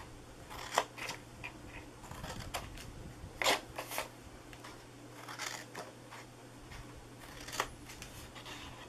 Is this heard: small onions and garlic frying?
no